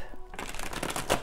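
Oracle cards are shuffled by hand for a short burst of quick, soft papery riffling after a brief quiet moment, close and gentle.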